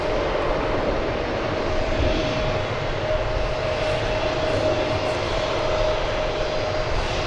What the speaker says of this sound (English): we can now turn our attention to more mundane things like other aircraft